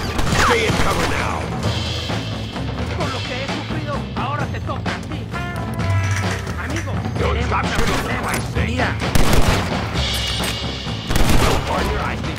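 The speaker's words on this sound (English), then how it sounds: "Stop shooting for Christ's sake!" Red Dead Redemption gunshots in a bandit shootout around a poker game, loud repeated reports over a busy mix of battle noise, music and shouted voices that runs throughout.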